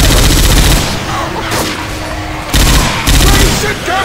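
Loud gunfire in Left 4 Dead 2 comes in heavy, sustained bursts with short pauses between volleys, filling the whole clip.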